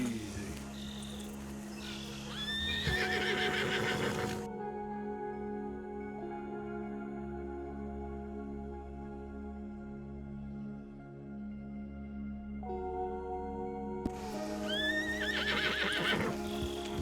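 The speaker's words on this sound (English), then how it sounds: "Horse hooves don't produce the same audio everywhere." In Red Dead Redemption 2, a horse gives loud whinnies at the start and again at the end, with clopping hooves and a steady croaking of frogs running underneath throughout.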